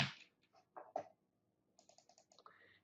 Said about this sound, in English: And I'm going to press Control-C on my keyboard.